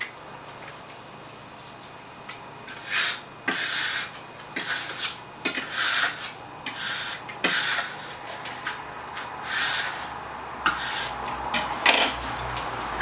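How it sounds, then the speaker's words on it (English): A scraper rubbed over transfer tape laid on a cut vinyl design, giving repeated short scratchy strokes in an uneven rhythm, close and fairly quiet. "I always go in and scrape from the front and then from the back."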